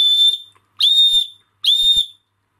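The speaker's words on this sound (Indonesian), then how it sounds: "Jika dibuka, penutupnya ini bisa digunakan sebagai peluit." Three loud, shrill blasts from a stainless steel spoon-cover whistle, each about half a second long with short gaps between them, sharp and close.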